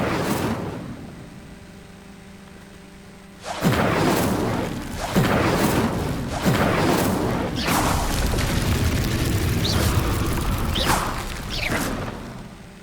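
A fire spell cast in Hogwarts Legacy bursts out after a quiet start: a deep boom and whoosh followed by several loud thumping, crackling blasts in a row, with no talking.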